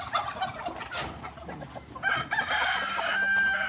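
A rooster crows loudly and close by, with hens clucking and chattering around it in a busy barnyard.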